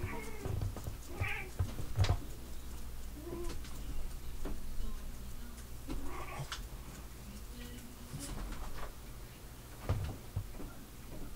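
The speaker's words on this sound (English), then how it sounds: "Cats meowing, dogs everywhere." Cats meowing indoors, several short, moderately faint calls scattered over a steady low household hum, with a few soft bumps in between.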